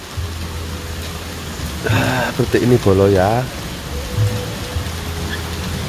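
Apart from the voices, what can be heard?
rain falling in a village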